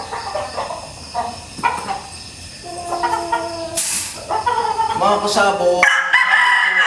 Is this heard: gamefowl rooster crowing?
yes